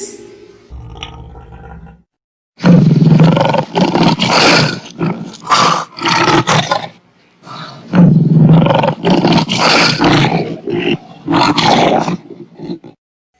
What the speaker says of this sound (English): What about this sound? Yes, roaring sound of lion.